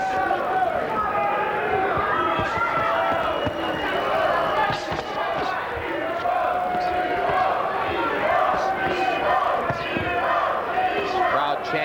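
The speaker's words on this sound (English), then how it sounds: "Crowd chanting for Ivo in the background." A boxing crowd chants for Ivo in rhythmic surges through a busy arena, under near-continuous commentary talk and scattered thuds.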